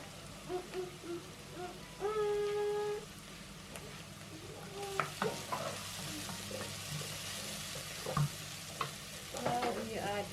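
Canned cooked beans fry in a pan with a steady, soft sizzle throughout, broken by scraping and clinking of a utensil stirring, close and moderately loud, with no talking.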